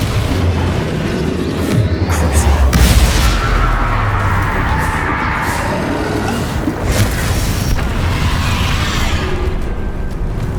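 Explosive Confringo spell blasts in Hogwarts Legacy boom through a dense, loud combat mix, with one heavy low impact standing out and more bursts rumbling around it.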